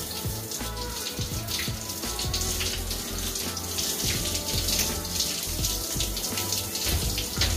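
Shower water runs steadily while hair is being wet, a continuous loud splashing hiss with irregular patters as the stream hits hair and skin, close and uninterrupted throughout.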